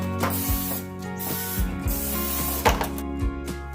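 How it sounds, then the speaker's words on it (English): Several short hissing bursts of vegetable oil cooking spray onto baking pans, close by, with a low mechanical hum running underneath and faint clicks between sprays. "I have some vegetable oil spray. So we're going to spray these."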